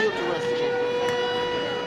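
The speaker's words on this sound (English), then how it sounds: "air raid sirens" A steady, sustained wailing tone holds across the clip, with the texture of an air raid siren in Kharkiv, Ukraine, under a noisy mix with possible voices.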